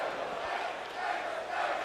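Esports crowd cheering and roaring at a CS:GO match on Mirage at a London major, a dense, sustained wall of voices that swells and dips slightly.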